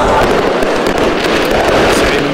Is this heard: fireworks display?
yes